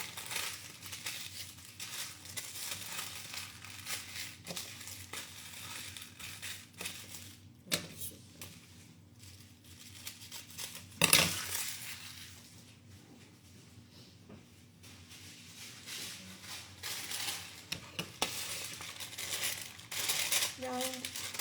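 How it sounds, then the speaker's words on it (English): Parchment paper crinkles and rustles as it is handled and cut in a kitchen, with scattered crumpling bursts and a sharp tearing snap partway through, close by at moderate volume over a low room hum. "some parchment paper, let me cut it down."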